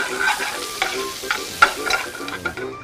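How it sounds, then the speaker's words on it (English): Shallot sweats in lard in a pan, sizzling and crackling softly up close while a utensil stirs it with scraping clicks, with no talking over it. "Sweat a little bit of the lard."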